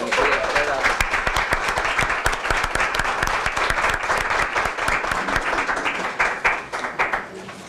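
Dense, steady applause fills a city council chamber in Bartoszyce after the election of the council chair, many hands clapping at once and loudly before thinning out at the end.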